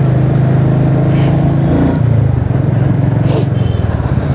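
A Royal Enfield Meteor 350 motorcycle engine running steadily while riding, with a loud, even low thump and a slight shift in pitch partway through as the bike changes speed.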